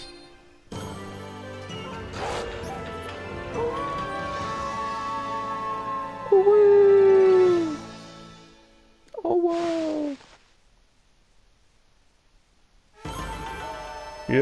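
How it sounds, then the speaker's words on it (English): The wolf Ōkami lets out a long, rising and falling victory howl in the Ōkami video game, loud and alone. A second, shorter howl follows after a pause, then another burst begins near the end. "how about a good victory howl?"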